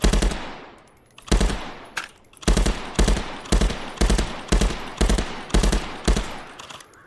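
Gunfire at a shooting range in a VR video game, a dozen loud close shots fired in a steady rhythm about half a second apart, each with a short ringing tail, after one opening shot and a gap.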